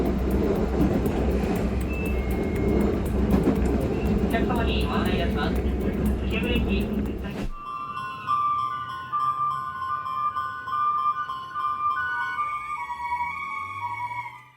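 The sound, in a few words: train overshooting its stop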